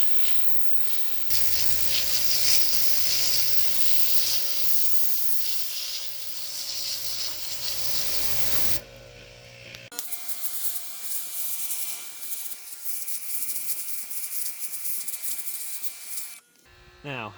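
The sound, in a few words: high-pressure power washer cleaning concrete driveway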